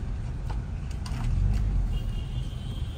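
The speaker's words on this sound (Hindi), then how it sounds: "ये जनाब ये देख रही है ईशा गाड़ी को कोने पर लगा रहे" A car's engine rumbles low and steady at close range while it is eased into a corner parking spot, with no voices over it.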